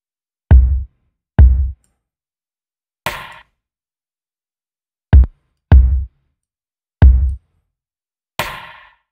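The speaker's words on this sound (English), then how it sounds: "chosen really soft kick and rimshot sample" Sparse, dry drum hits: soft low kicks and sharper, brighter rimshot clicks, each isolated and separated by silence.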